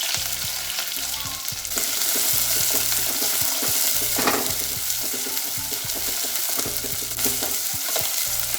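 Fenugreek seeds and two kinds of onion fry in hot oil for a fish curry, a loud, close, steady sizzle with a rhythmic clatter of stirring running through it.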